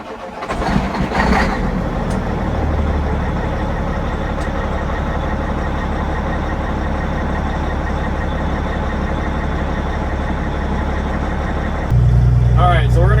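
A Cat C15 diesel truck engine cranks and fires, then settles into a loud, steady rumbling idle up close, with a brief louder rise near the end and people talking over it.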